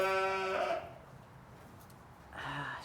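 A ewe with a dislocated hip gives a short, fairly close bleat, followed by quiet and then a faint second call at the end.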